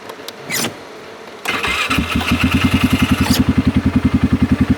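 A Polaris vehicle's engine cranks briefly, then catches. It settles into a loud, close, pulsing idle that throbs unevenly as it acts up.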